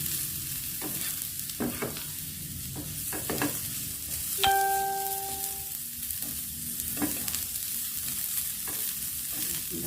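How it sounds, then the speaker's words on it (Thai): Papaya stir-fried in a pan for a papaya and egg dish, a steady low sizzle broken by scraping stirs of the spatula, with a short tonal beep partway through. "ผัดมะละกอให้สุกค่ะ"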